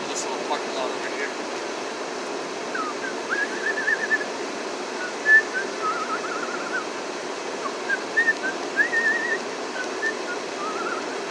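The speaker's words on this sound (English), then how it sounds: "I love to whistle. I really do. I whistle fucking all the time." A man whistles short melodic phrases in a quiet parking lot, faint tuneful bursts coming and going over a low steady background hum.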